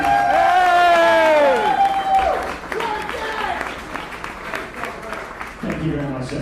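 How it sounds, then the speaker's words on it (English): A crowd at a Star Wars: The Old Republic community cantina in New York breaks into loud applause and cheering with some whoops, which then tapers into scattered clapping. A voice speaks over it near the end. "can you guys please give them a round of applause for the amazing work they've done?"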